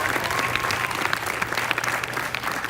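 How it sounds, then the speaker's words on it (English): Audience applauding thirteen young athletes at a school athletic celebration: a dense, even burst of clapping from a hall-sized crowd, steady and unbroken throughout. "One final round of applause for these 13 young men and women."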